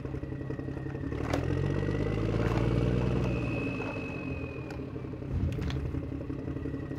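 A toy John Deere tractor runs with a continuous low mechanical hum and rattling clatter that swells and eases over several seconds, with a few sharp clicks and knocks on top and no voices.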